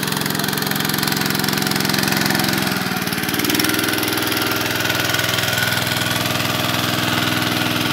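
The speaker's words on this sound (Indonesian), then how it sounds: "Inilah mesin penyedot air." Engine-driven water suction pump running beside a river to fill a catfish pond, a steady mid-pitched mechanical drone with a slight shift midway, close and constant with no talk.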